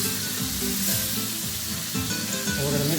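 Rice tipped into a hot pan of sofrito and squid for seafood paella, a steady close sizzle and crackle with scraping stir sounds throughout.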